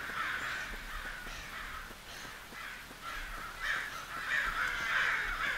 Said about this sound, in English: Shut up, you damn crows!